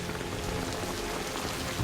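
Steady rain falls and patters on surfaces in a Game of Thrones scene, a dense continuous hiss with no voices.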